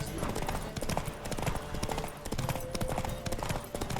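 Horse hooves clip-clop at a fast gallop during a race in The Witcher 3: Wild Hunt, a rapid, steady drumming of hoofbeats up close with a faint whinny and game sounds beneath.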